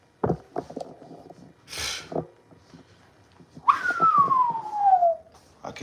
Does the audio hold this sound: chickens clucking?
no